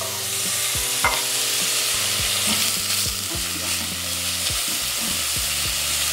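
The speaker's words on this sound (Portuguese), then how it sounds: "deixa eu dar uma mexidinha lá na cebola" Onions frying in a pan while being stirred, a constant close sizzle broken by repeated scraping and clattering strokes of a utensil against the pan.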